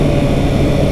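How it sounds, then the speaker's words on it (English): A motorcycle engine drones loudly and steadily while riding in winter rain, a dense low rumble with wind noise, too brief to pick out the downshift into second gear. "I'm going to drop down to second gear,"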